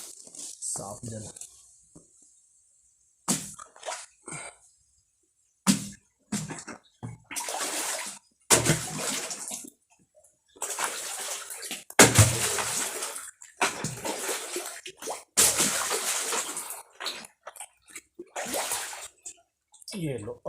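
Water is hauled up from a hillside well built by a sadhu, heard as a series of irregular splashing and sloshing bursts separated by short pauses, fairly close, with people talking intermittently.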